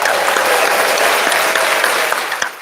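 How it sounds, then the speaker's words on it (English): Loud audience applause at a live show, a thick, continuous roar of clapping from a crowd that holds steady before tapering near the end. "Let's give Stacy a round of applause."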